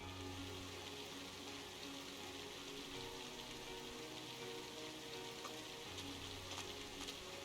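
Steady rain falling in the Trails of Cold Steel video game, a soft, continuous hiss of drops on surfaces with a low hum beneath it and no talking.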